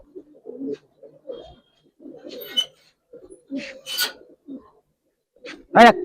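Old-breed Giribaz pigeons in a loft give several soft, throaty coos in short bursts, with light rustling and handling sounds between them.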